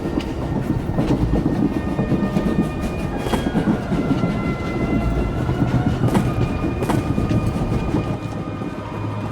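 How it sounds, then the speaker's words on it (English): A moving train in SWTOR rumbles and clatters loudly with a steady clickety-clack of wheels on track and occasional sharp metallic knocks, heard close and continuous with no voices. "The train is on the move, and the traitor's on board."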